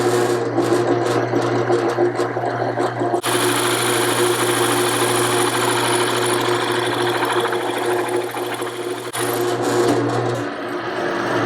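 A drill runs steadily, boring a deeper round-bottomed hole into wood. It makes a loud, continuous motor whine with a grinding edge, and it dips briefly partway through before resuming.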